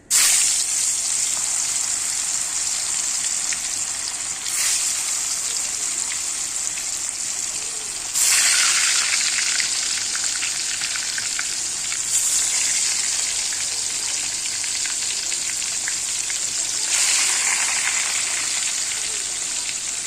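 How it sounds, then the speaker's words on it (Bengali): Fish sizzles in hot oil in a pan, a steady loud hiss with surges each few seconds as pieces are added or turned, with no talk. "চলো আগে মাছটা ভাজবো"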